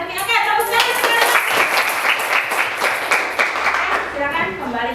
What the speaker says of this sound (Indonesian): tepuk tangan sekarang